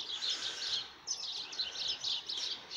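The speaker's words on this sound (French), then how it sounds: "Profite de les oiseaux qui viennent, ils sont contents, ils viennent grailler la bouffe des oies." Wild birds chirp and tweet steadily in a garden as they feed on geese's food, a bright, busy chorus of overlapping calls at moderate distance with no talking.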